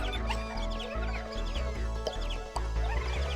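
Birds in the video game Skies of Arcadia give repeated clucking chirps over a steady low musical drone, moderately loud and continuous.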